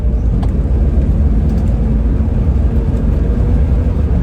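A 1973 Mercedes 280SE 4.5 V8 sedan engine running loud and close, a steady deep throbbing rumble that stays even throughout without distinct rev peaks, with no voices.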